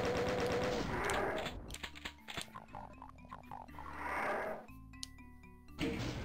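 Rapid chaingun fire from enemy chain gunners in the video game Doom, loud bursts mixed with other weapon blasts and monster grunts, the shooting dense at the start and again near the middle and end.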